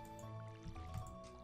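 Watering crops in the Stardew Valley farming game: soft, quiet splashing and dripping water from the watering can, a few brief wet pours over a faint steady background tone.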